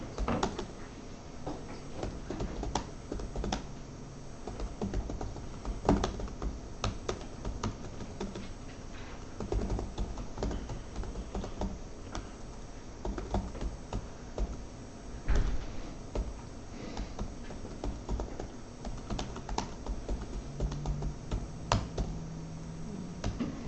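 Someone types code on a computer keyboard in a lecture setting, with irregular bursts of close, clacky keystrokes and a few heavier knocks over a low room hum, no speech.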